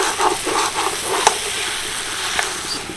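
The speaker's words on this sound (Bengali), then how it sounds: "পোস্তটাকে মশলার সাথে ভালো করে কষাবো" Poppy seed paste being fried and stirred with spices in a pan while cooking jackfruit without oil: a steady, close sizzle with soft scraping stir strokes, continuous and moderately loud.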